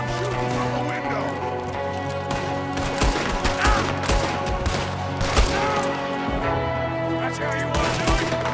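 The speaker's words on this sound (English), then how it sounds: "There's another one shooting from the window." Gunfire in a Red Dead Redemption 2 shootout, with shots fired from a window: repeated sharp cracks scattered over busy game noise, with horse hooves and a voice talking over it.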